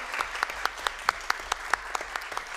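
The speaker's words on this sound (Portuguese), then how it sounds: "uma salva de palmas à Marina e à Dani Balbi" Sparse, rhythmic clapping from a small crowd at a formal legislative session opening Pink October, each clap distinct and evenly spaced, with faint room noise underneath.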